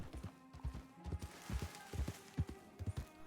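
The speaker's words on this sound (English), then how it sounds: "You just gallop the horse across the plains." Horse hooves gallop at a steady, rhythmic clip-clop in the RedM open-world western game, hoofbeats thudding in quick groups across open plains, fairly close, with no voices.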